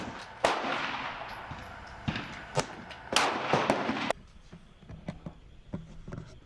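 Glock 43 pistol fired at a target on an outdoor range, several sharp, loud shots spaced irregularly with short echoing tails, followed by quieter clicks and handling noise.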